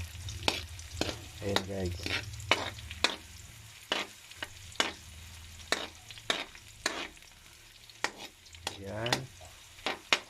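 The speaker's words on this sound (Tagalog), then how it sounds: "Ayan, maluluto na po ang sibuyas mga kaibigan." Onions sizzle and fry in a pan for sardines with glass noodles, with a steady frying hiss broken by repeated scraping stirs of a utensil, close up, while a person talks briefly over it.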